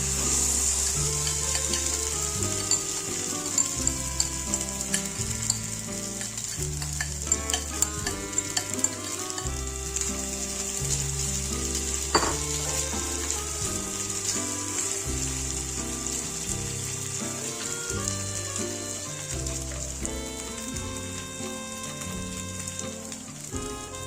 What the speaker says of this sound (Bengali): তেল একটু গরম হয়ে গেলে চাউমিনের মিশ্রণটা ঢেলে দেবো